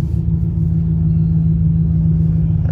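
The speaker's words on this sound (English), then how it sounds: "My loud truck over the dryers." A loud truck idles and rolls through the blower dryers of a Wash World Razor truck wash, giving a steady, heavy low rumble that holds evenly throughout with no pauses.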